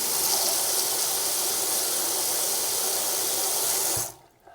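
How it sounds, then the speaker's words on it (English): Steady, loud rush of water pouring from a tap in a house under renovation, running evenly for about four seconds before being shut off and fading to quiet. "I have running water, yay!"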